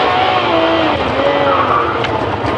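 Ferrari 599 GTO V12 engine heard from inside the cabin, a loud sustained roar with rising and falling engine tones as it revs and pulls, continuous throughout.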